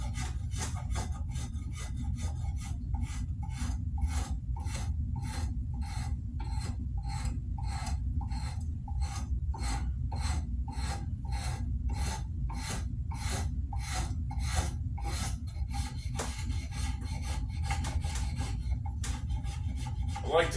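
Draw knife shaving wood in long repeated pulls, a regular rasping stroke roughly every half second over a low steady hum, close and clear.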